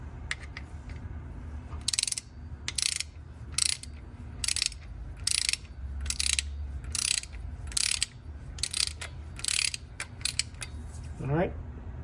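A hand ratchet tightens maintenance cover bolts on a Honda S2000 engine, giving rhythmic bursts of close, sharp clicking roughly every half second, separated by brief pauses, with a short rising creak near the end.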